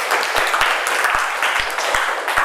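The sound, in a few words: students applauding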